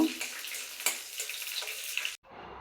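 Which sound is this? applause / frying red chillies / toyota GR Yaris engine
frying red chillies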